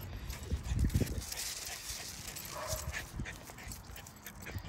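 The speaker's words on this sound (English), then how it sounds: "He sees another dog." A dog nearby snuffles and whimpers while other dogs are around, with scuffling movement and faint background noise over a few seconds.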